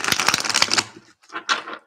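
Tarot cards are shuffled by hand in quick papery bursts: a dense riffling flutter, a short pause, then two briefer shuffles, close and fairly quiet.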